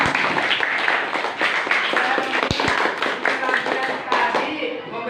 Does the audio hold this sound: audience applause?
yes